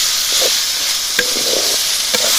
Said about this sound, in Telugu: పసుపు వేసాక కూరను అయితే బాగా వేపుకోవాలి.